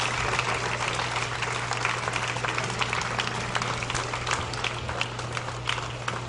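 A tennis crowd at a women's pro singles final gives a standing ovation, sustained dense clapping that holds steady and close throughout, with a faint low hum underneath.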